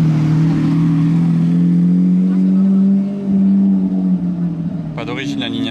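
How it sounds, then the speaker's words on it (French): Lamborghini Aventador Roadster with an aftermarket exhaust arriving on a street in Monaco, a loud deep engine drone that swells and holds, with someone talking over it near the end. "Arrivé de loin cet Aventador là."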